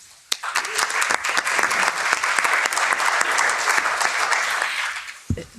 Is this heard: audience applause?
yes